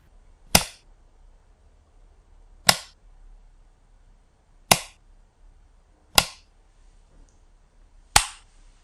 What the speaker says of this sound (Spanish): eso es un interruptor de luz